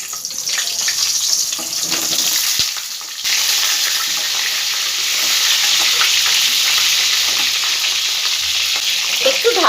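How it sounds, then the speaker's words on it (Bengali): Onions frying in a few spoonfuls of hot white oil in a pan, giving a steady, dense sizzle and crackle that runs throughout, with occasional stirring scrapes and no talking. "তেলটা আমার মোটামুটি গরমও হয়ে গেছে। এই পর্যায়ে আমি পেঁয়াজগুলো সব ভেজে নেব।"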